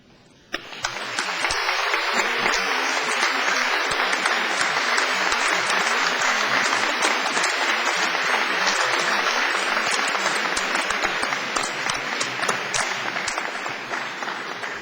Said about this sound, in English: giving them a big wave and an enthusiastic round of applause